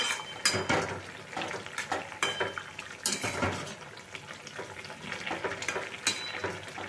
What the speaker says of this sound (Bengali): চিনিটা দেওয়ার পর একটুখানি নাড়াচাড়া করে মিশিয়ে দেব